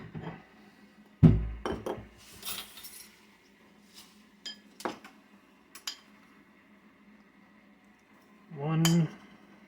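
Small dish clinking and clattering in a home kitchen during jam pie filling prep, a loud knock followed by scattered lighter clinks and taps, one brief rattling handling sound near the end, recorded close and fairly quiet.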